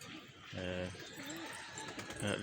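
A soft pigeon coo, a low throaty warble heard close against faint background noise, brief and quiet.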